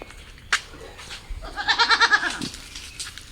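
A large goat gives a loud, wavering bleat with a fast tremolo, close by on a road heading to market. A sharp knock comes just before it, and faint background noise runs underneath.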